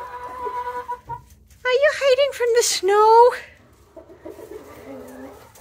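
Chickens cluck and squawk in a busy burst, close by, huddled in their coop out of the snow, while a person speaks softly to them before and after.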